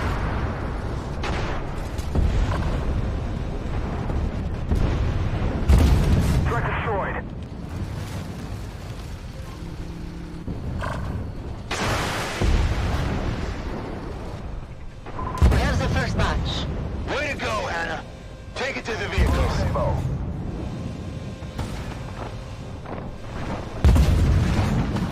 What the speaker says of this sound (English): The artillery. Where are they shooting from?